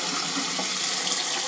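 Cold tap water runs from a kitchen faucet into a pot for cooling hard-boiled eggs, a loud, steady, continuous gush close by with no talking.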